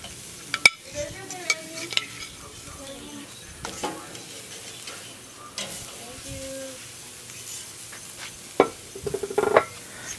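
Venison bacon burgers cooking on a hot surface give a low, continuous sizzle close by, broken by a few sharp clinks and scrapes of a utensil, with faint background sounds and no talking.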